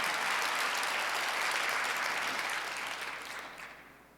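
Warm, full applause from a church congregation at Sunday worship, steady and moderately distant, then tapering off and fading out over the final second or so.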